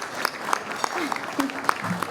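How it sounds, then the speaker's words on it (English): At an awards ceremony the audience gives a short burst of scattered applause, individual claps standing out against a light crowd murmur. "So clap it up for yourselves."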